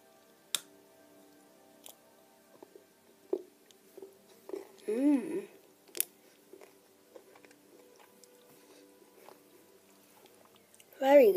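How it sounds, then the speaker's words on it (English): Someone bites into a chocolate Easter bunny filled with Smarties: sharp clicks and crunches, then scattered quieter chewing and tapping, close and intimate, with a brief voice partway through. "So let's take a bite."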